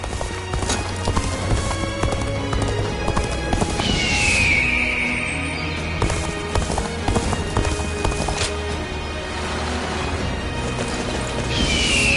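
Rapid hoofbeats clatter continuously as a horse gallops in the video game Dynasty Warriors, with two shrill neighs cutting in, one midway and one near the end.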